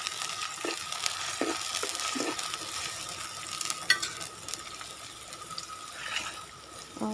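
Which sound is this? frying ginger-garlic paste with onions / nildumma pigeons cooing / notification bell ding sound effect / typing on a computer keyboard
frying ginger-garlic paste with onions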